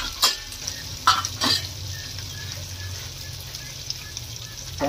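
Green peas and chilli get stirred in hot oil with mustard seeds in a pan, giving a soft, continuous sizzle broken by a few sharp scraping clatters of the spoon against the pan.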